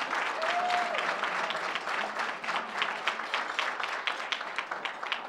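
Audience at a UMass Boston 2009 commencement celebration applauds an honoree, a full round of clapping that starts dense and thins into more distinct individual claps toward the end, moderately loud and without talk.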